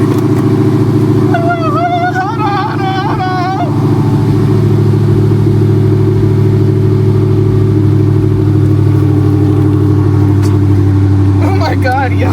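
A Dodge Challenger Redeye idles with a deep, loud, steady rumble and swells slightly as it revs, while people talk over it briefly.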